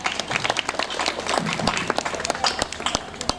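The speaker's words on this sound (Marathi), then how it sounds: "तुमच्यासाठी एकदा तुम्हीच जोरदार टाळ्या वाजवा." Audience clapping at a kirtan gathering, a brisk burst of many hands applauding together, close and lively, fading slightly toward the end.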